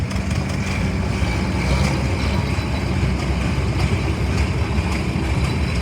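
An 80 horsepower tractor with a torque converter and power steering rumbles past at a tractor parade, its engine giving a steady, continuous low drone at close range with no talk over it.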